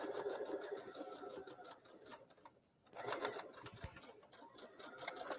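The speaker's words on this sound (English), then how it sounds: "now we're going to stitch all the way down" A domestic sewing machine stitches a zipper seam into a garment or bag in steady rapid needle bursts, pausing briefly midway before running again, fairly close and alone without talk.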